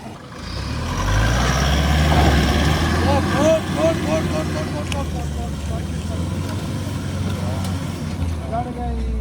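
A loaded camper van climbs a steep mountain road, its engine droning loud and steady with gear changes, while people talk over it throughout.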